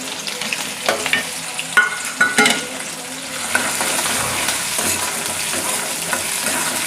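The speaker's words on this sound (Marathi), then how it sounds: "कांदा छान मस्त गुलाबी रंगावर तळून घ्यायचा" Finely chopped onion frying in oil with ginger-garlic paste for a sprouted moth bean curry, a steady close sizzle broken by a few clattering stirs of a spoon in the pan early on.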